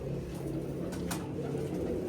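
Pigeons coo while bathing, producing low, soft, repeated calls over a steady background rumble.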